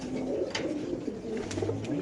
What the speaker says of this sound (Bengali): একটা মাদি কবুতর